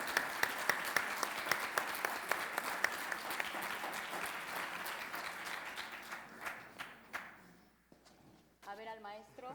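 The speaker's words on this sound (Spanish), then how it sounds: "Un aplauso." An audience claps at an award ceremony during an aviation union forum, a sustained dense round of applause that thins out and fades, followed by a voice speaking at the end.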